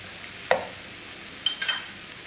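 Tomatoes cook in a pan for shakshuka with a soft steady sizzle, broken by a few brief clicks and faint stirring scrapes.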